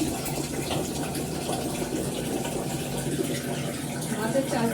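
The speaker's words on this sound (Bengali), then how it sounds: "চালটা ধুয়ে ফিল্টারে জল ভরে দিচ্ছি।" Water gushes steadily from an Aquaguard purifier filter into a container, a continuous close flowing fill that runs for several seconds.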